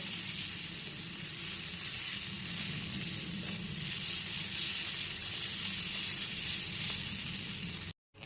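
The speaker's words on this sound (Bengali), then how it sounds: "গ্যাসের ফ্লেমটা মিডিয়ামে রেখে দু থেকে তিন মিনিটের জন্য একটু ভেজে নেব" Black pepper powder and salt frying over a medium flame for white sauce pasta make a continuous soft sizzle with a low bubbling undertone, close and even throughout, no voices.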